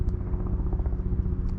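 A helicopter flies overhead outdoors, a steady low rotor rumble holding at moderate loudness for the whole moment, with no voices over it.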